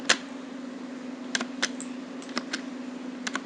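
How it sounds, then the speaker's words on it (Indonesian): Space bar presses on a computer keyboard give a handful of sharp, close clicks at irregular intervals over a steady low electrical hum. "untuk memainkannya klik space pada keyboard"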